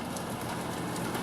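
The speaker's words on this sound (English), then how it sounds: "Look over here, the water's just coming down." Rainwater pours straight off the edge of a house roof that has no gutters, making a steady, soft splashing patter close by with no voices.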